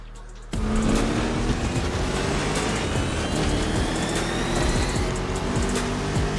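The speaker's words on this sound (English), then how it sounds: "Driving my #1 car, the star of my collection, the 1969 Mustang Boss 429." A 1969 Ford Mustang Boss 429 muscle car starts driving with a sudden onset of loud, rumbling engine noise that holds steady and close throughout.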